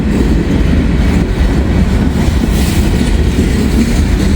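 Intermodal freight train rolling past close by, a steady loud broadband rumble with rail clatter throughout and no break or pause.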